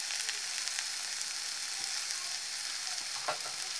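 Cassava leaves sizzle and crackle in a hot pan while being stir-fried, a steady close frying hiss with occasional scrapes and clinks from the stirring utensil.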